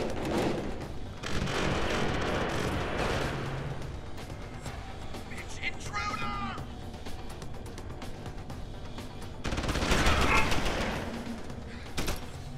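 An automated turret in the video game Deus Ex: Human Revolution fires in bursts, in rattling stretches of gunfire amid game noise. A heavier spell of shooting comes near the end.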